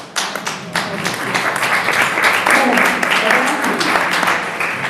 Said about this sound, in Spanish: Pero no estaba preparada para los aplausos